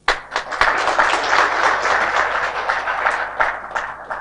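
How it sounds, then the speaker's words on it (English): Audience applause at the WSPC 2023 welcome address in Jordan, honouring host country partner Jordan and the Jordan Tourism Board: a dense, steady wash of many hands clapping close by, with a few sharper individual claps near the start. "give a huge round of applause to our host country partner, Jordan, and Jordan Tourism Board"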